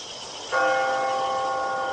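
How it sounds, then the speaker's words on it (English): A single courthouse fire bell strikes after a short pause and rings on with a sustained, slowly fading metallic tone. "Every day for a week, the fire bell rang from the courthouse."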